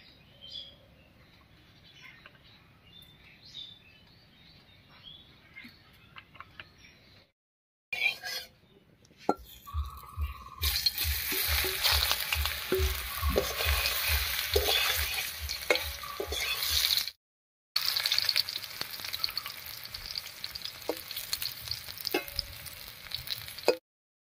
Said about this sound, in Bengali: এবারে কড়াইয়ে সর্ষের তেল দিয়ে এই কচুগুলো ভেজে নিচ্ছি